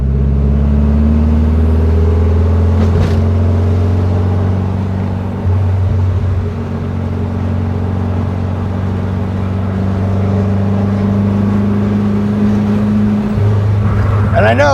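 Air-cooled 1835cc engine in a 1968 VW Type 3 Squareback with idling issues, a loud low steady idle hum close by that dips and wavers slightly, a brief voice near the end.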